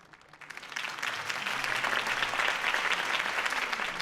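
In a Batman Telltale video game scene, applause swells quickly from near silence into a dense, steady round of clapping from a large crowd that holds strong to the end.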